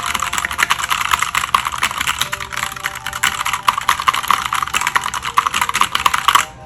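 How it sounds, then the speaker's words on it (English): Rapid typing on a ROCCAT mechanical keyboard, fairly loud close clicks and clacks in quick irregular bursts, stopping just before the end. "since this is mechanical keys, I want you to be able to hear this"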